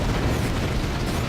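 An artillery cannon fires in the video game Battalion Wars 2, giving a dense, loud, rumbling boom that fills the whole moment with sustained blast noise and no speech.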